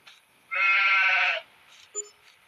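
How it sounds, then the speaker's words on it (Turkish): A single loud, bright sheep bleat in Farming Simulator 23 lasting about a second, followed by a short, faint electronic blip in an otherwise quiet scene. "Bunlarda arkadaşlar 3 tane koyunumuz var."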